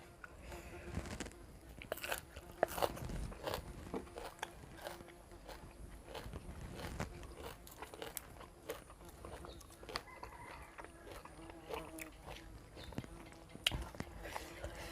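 Raw beef liver is chewed up close in quiet surroundings, with soft wet bites and crunchy mastication recurring irregularly, faint and intimate, a few distant background noises between.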